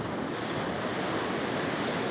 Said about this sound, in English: That wind is fairly strong.